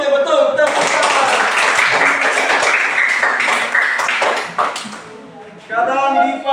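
A classroom breaks into applause, a dense burst of clapping from many hands lasting a few seconds; children's voices chatter under it and carry on briefly once it fades.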